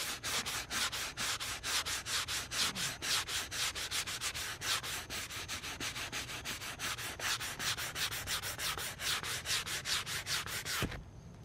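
Rapid back-and-forth sandpaper strokes on leather rasp steadily and rhythmically, close and loud, continuing without pause until stopping abruptly at the end.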